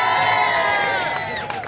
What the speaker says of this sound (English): So can we now get a big cheer for Nick